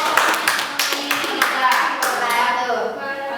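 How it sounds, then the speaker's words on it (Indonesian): Classmates clap for a presenting group in a school lesson, a burst of rhythmic, fairly close handclaps in quick uneven beats, with children's voices talking through and after it. "Tepuk tangan dulu sebelumnya untuk kelompok kita."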